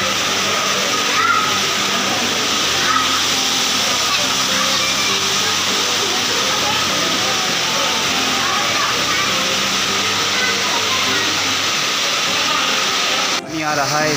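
Kiwai waterfall near Naran Kaghan pours into a stream beside a restaurant, making a loud, steady roar of rushing water that holds unbroken throughout, close by and with a brief knock near the end.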